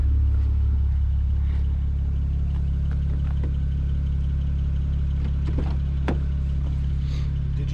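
A BMW 335xi with the N54 engine pulling away on a test drive, heard as a loud steady low engine rumble that holds nearly constant throughout, with a few faint clicks and knocks on top and no speech.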